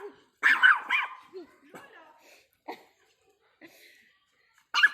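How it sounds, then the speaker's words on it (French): Several dogs bark in short bursts around a woman during an outdoor Taiji quan class, the barks loud and close at first and then scattered, with brief talk mixed in. "tous les chiens arrivent et aboient"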